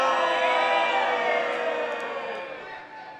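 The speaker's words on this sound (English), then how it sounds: "the crowd here still clearly studies who they should boo and cheer" A wrestling crowd at a live event, with sustained loud cheering and booing filling the arena at a steady roar that eases off slightly toward the end.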